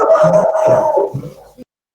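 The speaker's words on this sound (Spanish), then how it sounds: "hasta el perro me está retando" A dog barks and howls nearby in a home during an online engineering lecture, giving a few loud, drawn-out yowling barks over under two seconds before stopping abruptly.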